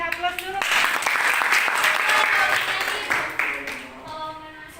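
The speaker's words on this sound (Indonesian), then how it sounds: "Iya, beri aplaus dulu." Students in a classroom break into steady applause, a dense wash of clapping that starts abruptly, holds for a few seconds and then tapers off, with voices mixed in.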